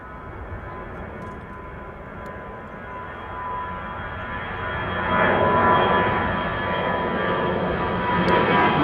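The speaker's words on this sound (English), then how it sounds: "Emirates flight 147 arriving from Dubai." An Emirates airliner arriving from Dubai onto the center runway at Amsterdam Schiphol Airport, its steady jet engine roar swelling louder about halfway through and holding as it passes at moderate distance.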